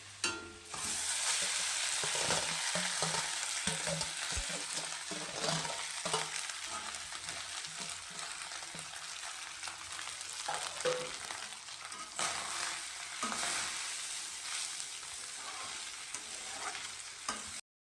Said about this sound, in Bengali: এখানে কড়াতে ঘি দিয়ে দেওয়া হয়েছিল রাইসটাকে ভাজার জন্য